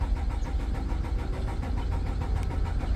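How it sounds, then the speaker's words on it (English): A 2013 Nissan Altima engine cranks without catching, a steady churning starter drone that stays loud and continuous the whole time, with no pause and no talk over it. "The car engine is cranking but no start."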